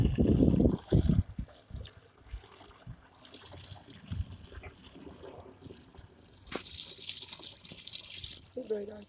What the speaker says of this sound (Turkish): Su geldi arkadaşlar.